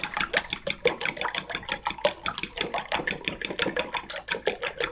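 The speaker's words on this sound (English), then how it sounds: "I'm going to add a little bit of cream to my eggs. And I'll just give that a good whisk." Eggs and a little cream whisked briskly in a bowl for an omelette, a fast, steady run of close clicking and scraping strokes repeating several times per second without pause and with no talking.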